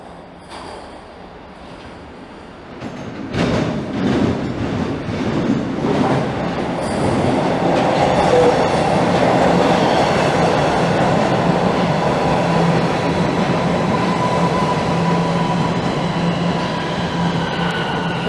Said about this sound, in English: as a southbound train rolls in